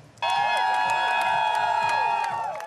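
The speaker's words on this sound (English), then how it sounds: "There was cheering in the streets of Greenwich Village" A crowd cheers in the streets of Greenwich Village after the New York State Senate passes same-sex marriage, a sudden loud eruption of shouts and whoops that holds steady, with scattered higher voices cutting through.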